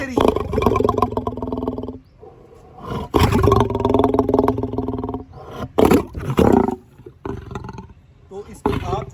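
Lion roaring at a wildlife enclosure, several deep drawn-out roars in loud bursts separated by short pauses, close and powerful, with some background noise between calls.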